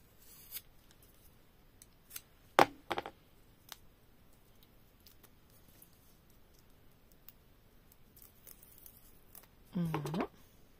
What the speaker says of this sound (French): Et du coup, on va le couper en deux.